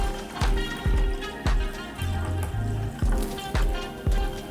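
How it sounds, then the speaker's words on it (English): Water poured into a cup already holding Castile soap for a makeup-brush cleaning mix, a steady liquid splash running under repeated low thumps across a few seconds. "and then go ahead and add your water."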